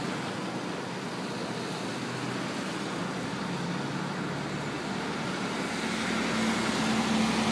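Steady, dense roar of cars and trucks speeding along snowy, slippery Highway 401 in winter, a continuous broadband wash of tire and engine noise that swells slightly near the end, with no one talking.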